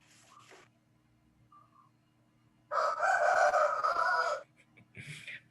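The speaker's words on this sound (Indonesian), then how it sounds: "Malah kedengarannya suara ayam dari Nila itu." A rooster crows loudly and at length over an online call during a microeconomics lecture, with a few short clucks and chicken calls before and after the crow.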